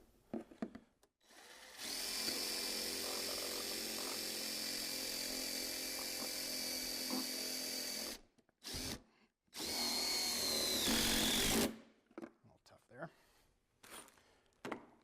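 Power drill driving screws into the holes of a metal purlin holder on a modern pergola kit beam, two loud sustained whirring bursts, the first about six seconds long and the second shorter, with quiet gaps and brief knocks between.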